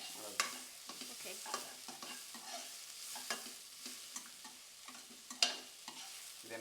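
Gobi frying in a pan and being stirred: a soft steady sizzle broken by repeated scraping strokes of a spoon or spatula, heard close and fairly quiet with no talk.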